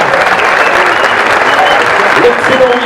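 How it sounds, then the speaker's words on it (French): A crowd applauds a cyclist at the start of a women's Tour de France stage in La Gacilly, with dense, steady clapping throughout and voices mixed in. "Les applaudissements pour Eline Janssen."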